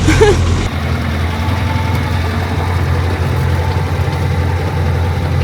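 A heavy vehicle engine idles with a steady low rumble, loud and close, continuing unchanged throughout, beside the Tsiribihina River in Madagascar.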